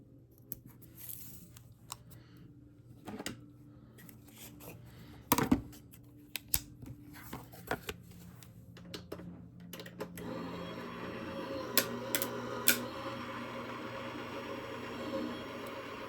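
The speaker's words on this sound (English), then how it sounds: "run it through my die cut machine" A die cut machine runs card stock through its rollers, giving a low mechanical whir mixed with clicks and sharp knocks, fairly faint and growing denser toward the end, with a person talking quietly over it.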